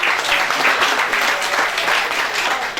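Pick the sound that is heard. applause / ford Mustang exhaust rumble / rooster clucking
applause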